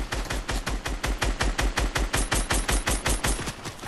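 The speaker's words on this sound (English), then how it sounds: "Oh, he's shooting at us." Rapid automatic gunfire from an enemy player in the Fortnite video game, a steady stream of about twenty sharp shots at an even, fast rhythm, loud and close, with no talking.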